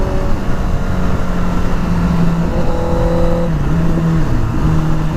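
A motorbike engine revving and pulling hard under acceleration, with a steady droning tone that climbs in pitch through the gears, loud and close alongside constant wind rush.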